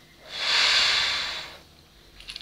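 A single long breath blown onto a set of divination bones, lucky bean, dice and dominoes, a close airy hiss that swells for about a second and fades, followed by faint light clicks of the pieces.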